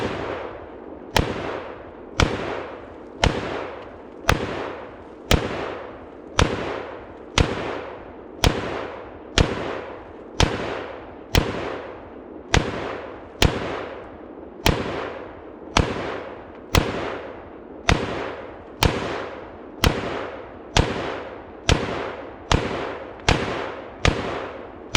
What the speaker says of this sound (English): It was like 28 or so shots.